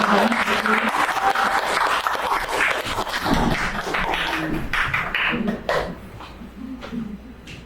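A church congregation applauds during a Korean service, a full, dense round of clapping that holds steady for about five seconds, then thins and fades to scattered claps.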